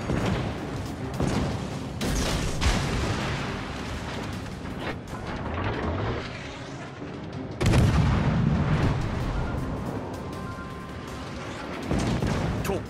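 Naval guns on warships in the game World of Warships: Legends boom repeatedly, heavy blasts with rumbling tails, a big salvo standing out near the middle, loud and sustained with no talk.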